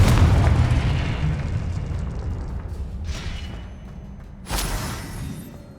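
A Confringo fire-blast spell in Hogwarts Legacy explodes with a loud booming burst at the start, fading into a rumbling tail, followed by two smaller sharp bursts later.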